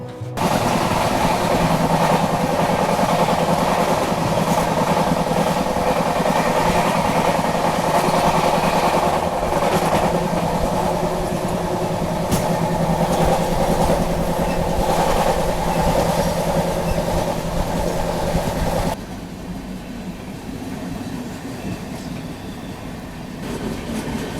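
The Howrah–Mumbai Mail passenger train rumbles past nearby near Kasara station with a steady loud roar and rhythmic clatter of wheels on rails, then the noise drops off abruptly near the end.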